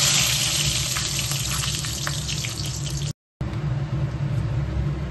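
Dried chillies and bay leaves fry in mustard oil in a wok, giving a loud, dense, continuous sizzle that cuts out briefly just after three seconds and then carries on at the same strength.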